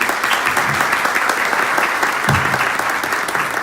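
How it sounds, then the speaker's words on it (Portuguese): An audience at a privacy summit in São Paulo applauding, dense sustained clapping from a crowd of many hands, loud and even throughout with no break. "Uma salva de palmas."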